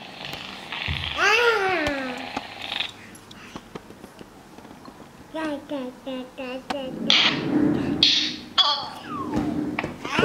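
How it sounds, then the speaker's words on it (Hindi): A cat gives a few drawn-out meows, close by, with pauses between calls and some other voices and handling noise. "बिल्ली"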